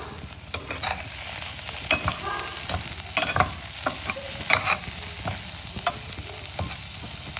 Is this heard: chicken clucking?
no